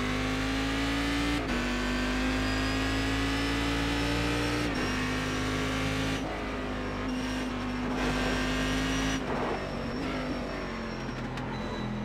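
Race car engine screaming through a hot lap at Donington in a sportscar racing game, a loud sustained high whine with several sharp gear-shift dips and steady roaring throughout.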